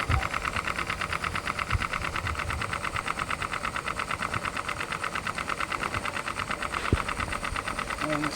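A small model steam engine runs steadily with a fast, even mechanical chuffing and clatter, close and continuous, with a couple of brief sharp knocks.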